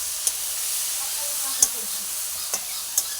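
A bamboo shoot fry seasoned with salt, turmeric, chilli and cumin sizzles softly in a pan, a steady hiss punctuated by a few sharp, spaced knocks of the stirring spoon against the pan.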